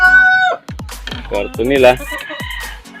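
A Rhode Island Red breeder rooster crows loudly and close, a long rising-and-falling cock-a-doodle-doo with a few clucks, while someone talks over and between the calls.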